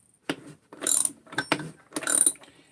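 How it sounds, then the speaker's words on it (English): A crankshaft turned by hand inside a 372 crankcase gives four short bursts of dry mechanical clicking and ratcheting, close and fairly quiet with pauses between. "So just start turning the crank."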